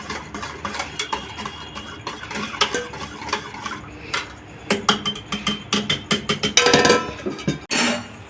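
A spoon rapidly stirs and scrapes a mixture for doi bora in a bowl, making close, busy clinking and rattling strokes that come in uneven runs and grow denser toward the end.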